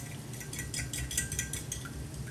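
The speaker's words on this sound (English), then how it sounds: "And I don't have a small whisk, so I'm using a spoon." A spoon clinks rapidly against a small bowl while stirring a cornstarch slurry for a vegan beef and broccoli sauce, a quick run of light metallic taps, close and fairly faint.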